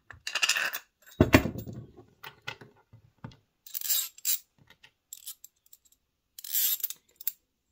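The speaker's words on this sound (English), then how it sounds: "I'm going to stack these washers so it doesn't pull that square through that hole." Metal washers clink and slide against each other as they are stacked onto bolts of a homemade carburetor stand, a few sharp close metallic taps and scrapes separated by quiet gaps.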